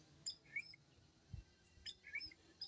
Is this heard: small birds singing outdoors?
yes